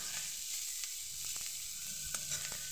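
Food frying in hot oil in a wok gives a steady, close sizzle with a few soft crackles and light stirring scrapes.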